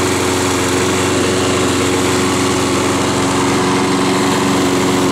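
A Toro Multicycler lawn mower's small engine runs steadily and evenly after repair, a loud constant buzzing drone with no breaks or sputters.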